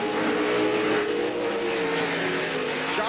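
Loud, continuous roar of CORR Pro 2 and Pro 4 off-road racing truck engines at Primm, Nevada, droning steadily, with no pauses.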